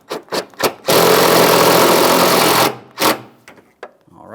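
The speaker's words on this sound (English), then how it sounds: "installing this mounting nut as well." A 13mm mounting nut is tightened at the washer fluid reservoir of a 2002-2009 Chevrolet Trailblazer: a few sharp clicks, then a loud, steady mechanical whirring lasting about two seconds, followed by more scattered clicks.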